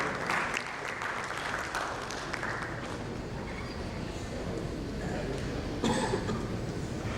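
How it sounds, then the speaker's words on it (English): Applause for a panel speaker at an AI and blockchain insurance conference in India, moderate clapping with some crowd murmur and a brief louder burst near the end. "A big round of applause to Mahesh ji for his wonderful contribution in the panel session"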